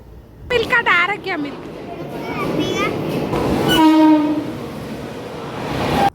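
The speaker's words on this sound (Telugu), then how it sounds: "ట్రైన్ చూసిర్రు ఎంత స్పీడ్గా పోతుందో" A Mumbai local train pulling into a station, a loud rumble of wheels and carriages rolling close by, a horn blast midway, with people speaking over the noise.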